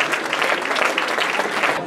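Audience applause at a trail running award ceremony for the Challenge des Trails de Provence, a dense steady clapping that holds for two seconds without a break.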